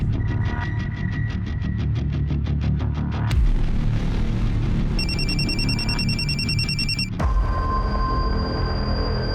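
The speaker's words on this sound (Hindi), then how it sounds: "किसका फोन है?" A telephone rings with a rapid pulsing electronic trill, then a steadier beeping tone follows, all over a loud rumbling background like a moving train.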